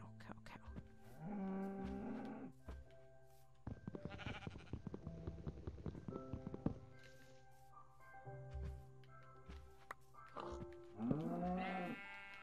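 Cows mooing in the Minecraft video game, several low drawn-out moos spaced across the stretch with blocky game sound effects between them, some fairly loud and others fainter.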